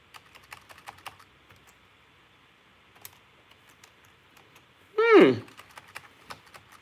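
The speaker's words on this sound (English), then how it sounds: "let me see if I can type it in" Soft, scattered keystrokes tap on a computer keyboard as a website address is typed, faint and irregular throughout. A short vocal sound briefly rises over the typing near the end.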